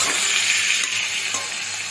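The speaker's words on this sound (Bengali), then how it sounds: "টমেটোটাকেও আমি হালকাভাবে পেঁয়াজের সাথে ভেজে নিচ্ছি" Tomato frying gently with onions in a pan for chicken rezala, a steady close sizzle with soft stirring scrapes, no voices.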